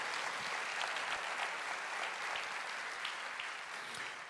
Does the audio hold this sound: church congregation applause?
yes